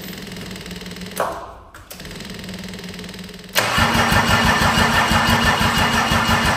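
A Mercedes 190D with an OM606 diesel engine cranks briefly, then fires up and settles into a loud, steady, rough diesel idle, heard close with no talking.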